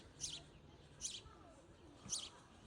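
A sparrow at a zoo gives three short, faint chirps, roughly one second apart, over a soft, low background hum.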